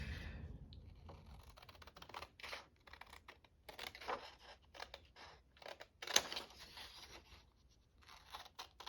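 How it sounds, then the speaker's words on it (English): Scissors cut through paper in a quiet craft setting, producing a close series of soft, irregular snips and scrapes with one sharper crisp cut near the end. "And we're gonna cut this off."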